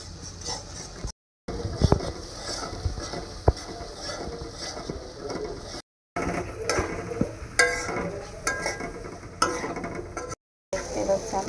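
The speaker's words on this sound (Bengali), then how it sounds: "দেখতে পাচ্ছেন চাউল ভাজার বুট একসাথেই কষাচ্ছি।" Chickpeas and rice stir-fried together in a pan with chilli, bay leaf, cardamom, ginger, garlic, turmeric and chilli powder: steady scraping and stirring with a soft sizzle, close up, continuous with brief gaps.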